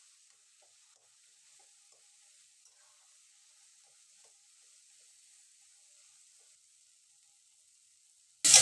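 Kachu shak (taro greens) with a hilsa fish head cooks in a pan after sugar is added, giving a faint, steady sizzle that ends in a sudden loud clatter.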